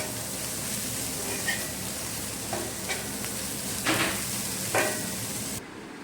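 An egg fries in a pan with a steady, moderately loud sizzle and a few soft crackles and pops rising above it, cutting off abruptly near the end.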